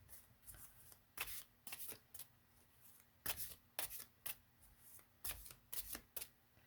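Tarot cards being shuffled by hand in quiet surroundings, a run of crisp riffling bursts in irregular clusters, close and fairly soft, with no talking.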